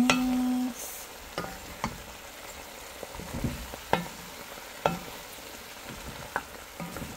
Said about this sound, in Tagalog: Mix muna natin para maresiko yung onion at saka garlic.